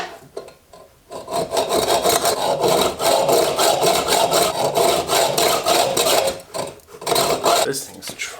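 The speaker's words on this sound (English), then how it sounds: "let's go cut this end off with a hacksaw" Metal part being cut off the end of a homemade budget monopod with a power saw, a steady loud rasping cut lasting several seconds, starting after a brief pause and tapering off near the end.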